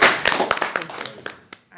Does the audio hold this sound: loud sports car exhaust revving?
no